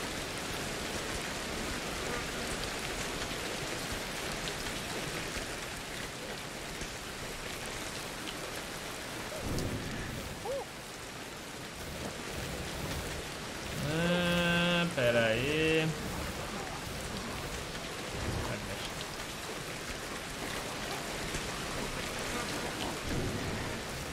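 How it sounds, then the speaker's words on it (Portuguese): Steady heavy rain hissing on surfaces with rumbles of thunder rolling in, plus a brief tonal chime partway through, in the video game Ancestors. "Até pra dormir com esse barulho de chuva"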